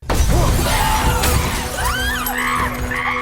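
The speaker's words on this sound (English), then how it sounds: "Bright Eyes smashes through the big window, scaring everyone in the room" Ape smashing through a big glass window in a lab meeting room: a loud, sustained crash of shattering glass with scattered shards tinkling, then overlapping startled shrieks and cries.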